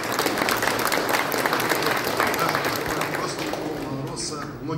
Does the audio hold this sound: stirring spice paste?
no